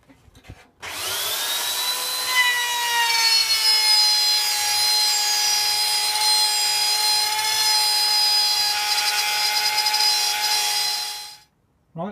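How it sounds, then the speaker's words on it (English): A wood router cuts a small groove in a board for a narrowboat cratch. Its loud, steady, high-pitched whine is close by and lasts about ten seconds, then it stops abruptly, with no talking. "I finished routing the little groove out that I needed"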